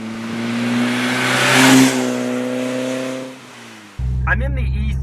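A BMW E30 M3 engine revs hard while driving, rising to a strained peak, easing off, then cutting to a lower, rougher drone as the car shifts. Loud and close, with no talk over it.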